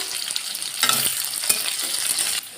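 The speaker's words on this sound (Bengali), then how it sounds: "তেল দিলাম পরিমাণ মতন, মধ্যে জিরে দিয়ে দিলাম, দিয়ে দিলাম কাঁচা লঙ্কা" Cumin seeds and green chili sizzling and spattering in hot oil in a pan, a loud close crackle in bursts as the spices are stirred, with no talk.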